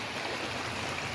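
Fast-running floodwater pours down a stream in Kentucky as a steady, loud, broadband rush that fills the whole moment without a break or any voice.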